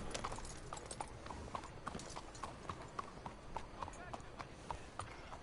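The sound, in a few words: horse hooves clip-clopping in video game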